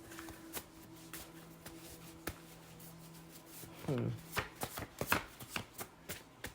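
Tarot cards are handled and riffled near the close, with a quick run of soft papery flicks and shuffles in the last few seconds following quieter shuffling earlier. A faint steady hum sits underneath.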